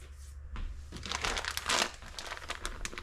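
A bag of Kroger dark brown sugar being handled, giving off close crinkly plastic rustling that swells and fades over a few seconds with no talking.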